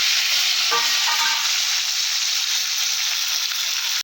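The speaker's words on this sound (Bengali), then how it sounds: "আলুগুলো ছেড়ে দিলাম। নাড়াচাড়া করে দেবো।" Potatoes sizzle steadily in hot oil in a pan as they are stirred, with a few brief scraping clinks early on, then a continuous close frying hiss alone.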